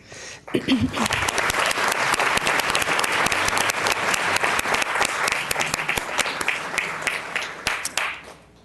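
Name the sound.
audience applause at a school board meeting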